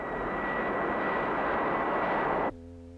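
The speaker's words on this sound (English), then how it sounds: "With a 40 miles per hour crosswind produced by a powerful jet engine" Powerful jet engine blasting a crosswind across a car test track, a loud steady roar with a whining tone that cuts off sharply near the end, leaving a quieter low hum.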